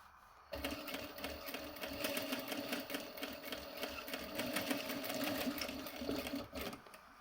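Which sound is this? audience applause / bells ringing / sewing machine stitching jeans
sewing machine stitching jeans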